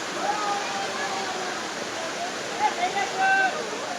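The Jata Shankar waterfall in the Gir forest near Junagadh, running low on water, gives a steady close rushing roar throughout, with faint bird calls or chirps rising above it.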